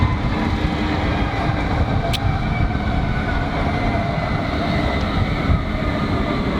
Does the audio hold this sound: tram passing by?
yes